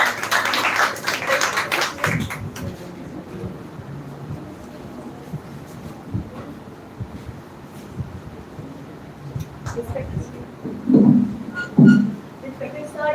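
Audience clapping at an English speech competition semi-final as a speaker is called to the podium, a brief burst of clapping at the start fading into room noise and scattered taps.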